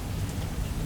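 Steady rain falls close by in a short, even wash of noise with no pauses and no voices.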